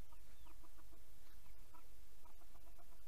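Rooster and hens clucking in a farmyard flock: faint, scattered clucks in short bursts over low background noise, with no talk.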